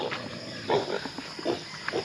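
Pig grunting on a farm, a series of short low snorts at close range, about four bursts spaced irregularly over a couple of seconds against steady background noise.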